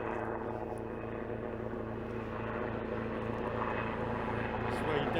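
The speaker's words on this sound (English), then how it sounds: "Well, that's quite low for a helicopter. Yes, that's Coast Guard." A Coast Guard helicopter flies low along a beach, its rotor and engine making a loud, steady drone that carries on unbroken and swells slightly toward the end.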